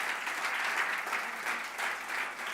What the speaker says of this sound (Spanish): Dale un lindo aplauso al Señor por eso.